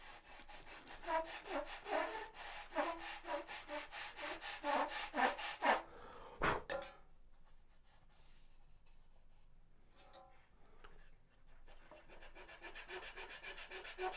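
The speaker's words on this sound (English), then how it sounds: "might as well try to sand it, hopefully without breaking it." A foam wing for a Carl Goldberg Ultimate 10-300 model biplane is sanded by hand in quick, rhythmic back-and-forth strokes, close and steady. A pause and a knock follow, then softer, faster rubbing starts again, with no one talking.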